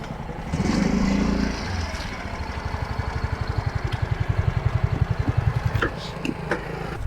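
Motorcycle engine rumbling close as the bike pulls aside for a traffic police check, a loud burst settling into a steady, rapidly pulsing idle with faint voices and street noise around it.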